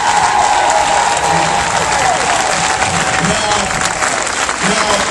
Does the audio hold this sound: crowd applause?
yes